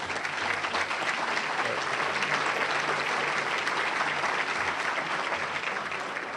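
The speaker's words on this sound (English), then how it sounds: "could I ask all the Chicago Public School family, teachers, principals, give Karen a round of applause" Sustained applause from a large audience of Chicago Public Schools teachers, principals and staff honouring Karen, a loud continuous wash of clapping from start to finish with no speech over it.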